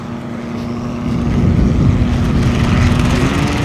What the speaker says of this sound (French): Voilà le Stearman qui se présente dans l'axe. Il ne se posera pas ce coup-là.